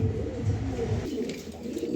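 A red female racing pigeon coos in low, repeated throaty bursts, close and fairly loud, with other pigeon murmurs continuing underneath.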